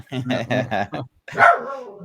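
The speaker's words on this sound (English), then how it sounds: "Something the dog outside has set him off." A dog barks outside, a quick series of four sharp barks followed by a longer whining yelp, close and loud.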